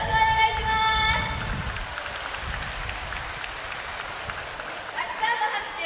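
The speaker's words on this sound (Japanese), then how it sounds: "たくさんの拍手ありがとうございます。" Audience applause fills the stands at a public orca training show at an aquarium, a broad steady clapping that holds for several seconds, with a brief whistle near the start and a voice faintly over it.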